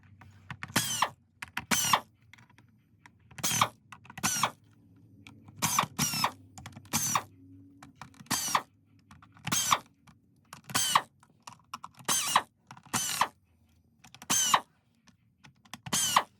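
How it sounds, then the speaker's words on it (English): A screwdriver backs screws out of a Shark Rocket vacuum nozzle in short bursts of close ratcheting clicks, each separated by a brief pause, about a dozen in all. "So let's take the screws out."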